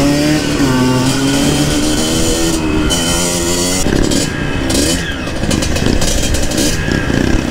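Trail motorcycle riding a slippery, muddy route during a typhoon downpour, the engine close and loud, revving and shifting pitch as it climbs and eases off, with rough gravelly rumble and rain noise underneath.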